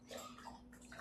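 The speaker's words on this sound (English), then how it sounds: "Sorry if you hear my dog in the background" A dog laps water from its bowl in a home kitchen, a faint, quick series of wet slurping licks heard alone at low level.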